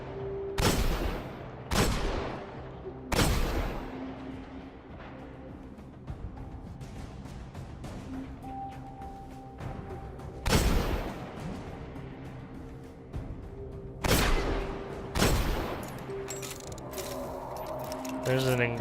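Hand cannon pistol shots in a video game, about seven loud, widely spaced blasts, some in quick pairs, over mechanical game sounds and music, with a player talking.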